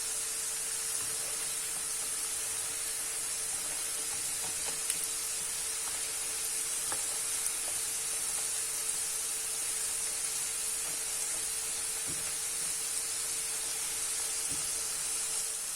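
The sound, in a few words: potato chips frying in hot oil on medium heat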